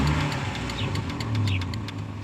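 An old back-lot car with a missing or bad exhaust runs at a steady low idle, a rough continuous rumble close by with no talking.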